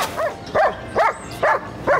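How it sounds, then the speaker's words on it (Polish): A dog barks five times in an even, regular rhythm, each bark a short, moderately loud yelp heard alone without talk. "Że, że ten pies musi tak szczekać."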